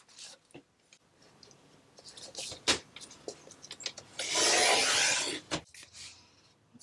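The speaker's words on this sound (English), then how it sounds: "So I want to trim around the edges now." Paper journal folder edges being trimmed, with scattered scraping and cutting strokes and one sustained loud rasping burst, close and without voices.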